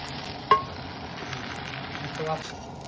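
Sorghum flour pancake batter with vegetables cooks in a little oil on a griddle, giving a steady low sizzle with a sharp utensil clink early on and a faint scrape near the end.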